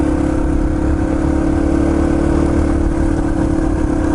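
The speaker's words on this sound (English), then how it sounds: "it seemed to hesitate when I gave it the gas." A Yamaha TT-R230 dirt bike engine runs loud and close in a steady droning hum, with little change in pitch throughout.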